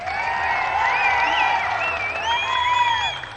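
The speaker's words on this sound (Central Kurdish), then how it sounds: "یەک چەپڵەی گەرم بۆ خۆتان" An audience at a 2014 concert at City Center Slemani applauds continuously, with shrill whistles or high cheers cutting through the clapping throughout.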